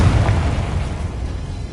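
Confringo blasting spell going off in a Hogwarts video game, a short deep rumbling boom that holds heavy low-end noise for under two seconds, loud and close with no talk.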